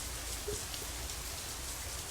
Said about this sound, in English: Yeah, I like rainy weather too.